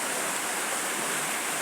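River water rushes in a constant broadband hiss, loud and close, steady throughout with no pauses and no voices.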